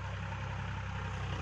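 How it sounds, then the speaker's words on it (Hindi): Powertrac tractor engine running in rain, a steady deep diesel rumble with an even low throb, loud and close, without voices. "और इसकी ट्राई ले रहे हैं पावर ट्रैक ट्रैक्टर की"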